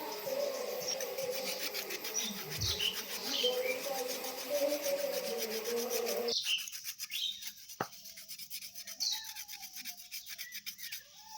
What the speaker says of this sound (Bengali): উপরের যে হালকা খোসাটা আছে সেটা কিন্তু এভাবে ছুরি বা চাকুর সাহায্যে তোমরা এভাবে ঘষে ঘষে কিন্তু তুলে নেবে